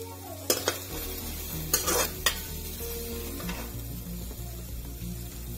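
Chopped garlic and onion fry in mustard oil in a pan, a soft steady sizzle broken by a few sharp clinks and scrapes of a spoon stirring against the metal.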